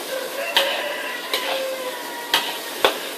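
Pastel goreng filling being stirred in a pan, with a steady soft scraping and sizzle broken by four sharp utensil knocks against the pan at irregular intervals.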